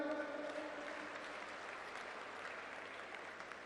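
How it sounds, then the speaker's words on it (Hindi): A hall audience at a national political party conference of elected representatives claps in a steady, faint, distant wash of applause that continues evenly throughout. "तमिलनाडु के साथियों के लिए जोरदार तालियां।"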